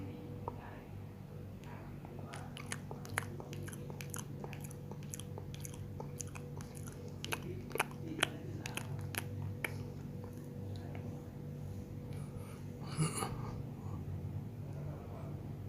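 Someone chews papaya salad with grilled pork up close, steady soft wet chewing and small crunchy bites over a low constant hum, with a brief murmur of speech near the end.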